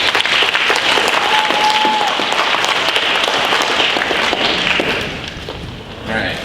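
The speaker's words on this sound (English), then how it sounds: "Can I get another round of applause for both teams?" Applause from a crowd at a high school debate for both teams: sustained, loud, close clapping lasting several seconds before tapering off, with some voices near the end.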